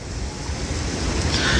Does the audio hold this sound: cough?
no